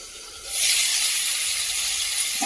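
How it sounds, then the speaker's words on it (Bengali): Cauliflower pieces hit hot oil in a pan, and a loud, broad hiss swells up after half a second and holds steady, with no talking. "এবার কিন্তু আমি এই যে কেটে ধুয়ে রাখা ফুলকপিগুলো ভেজে নেবো"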